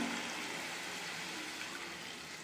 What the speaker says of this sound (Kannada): 1 ಲೋಟದಲ್ಲಿ ನೀರು ಹಾಕ್ತಾಯಿದ್ದೀನಿ.